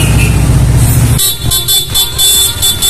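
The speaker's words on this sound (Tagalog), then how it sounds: "Ayan, back to stock horn." Stock horn of a Honda ADV motorcycle, sounding in several loud, close honks, one long blast followed by shorter repeated toots.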